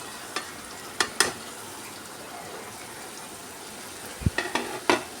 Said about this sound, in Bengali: ডিমটা দিয়ে আবারও খুব ভালো করে মশলাটার সঙ্গে নেড়ে চেড়ে মিশিয়ে নেব